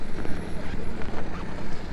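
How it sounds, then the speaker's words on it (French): Strong wind buffets the microphone at a boat anchorage off Santo Antão, a loud, continuous rumbling gust noise with pulsing surges and no clear speech. "Il y a pas mal de vent."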